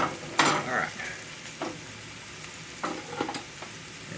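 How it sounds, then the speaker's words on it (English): Flour-coated pork chops fry in a pan with a close, crackling sizzle, broken by scrapes and bursts as they are moved about. "The only bad thing about frying this stuff up, it's messy."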